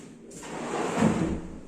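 A bathroom vanity drawer slides open or shut in an empty apartment, one short scraping slide that swells and fades over about a second, close and moderately loud, with no talk.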